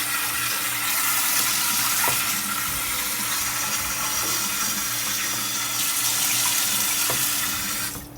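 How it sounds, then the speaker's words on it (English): A tap runs cold water in a steady, continuous stream to rinse parts of a Rainbow vacuum cleaner at a sink, a moderate even splash with a few small clinks and no talk. "And then rinse first using cold water."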